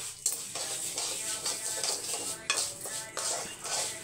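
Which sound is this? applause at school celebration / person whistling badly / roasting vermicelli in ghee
roasting vermicelli in ghee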